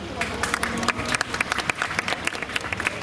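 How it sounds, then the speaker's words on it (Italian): An audience applauds at an outdoor beauty pageant with a bikini parade, a steady spread of individual claps from a mid-sized crowd, with voices and some background noise mixed in. "Un grande applauso!"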